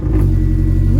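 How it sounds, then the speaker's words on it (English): A car's engine catches and revs up loudly at close range, a brief throaty surge after sitting unused; no voices. "I actually can't believe my car just started."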